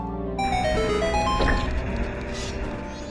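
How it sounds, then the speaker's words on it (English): Video game notification sound: bright, tonal melodic chimes stepping through a short sequence of pitches over a sustained harmonic bed, clear and moderately loud, with a soft shimmering swell near the end. "Different games use different audio tones or melodies as sort of notification sounds"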